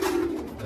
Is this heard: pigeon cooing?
yes